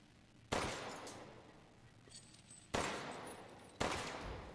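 Three loud gunshots in the survival-horror video game Resident Evil Village, each a sharp blast with a long decaying tail, spaced unevenly over a few seconds with faint game ambience between them.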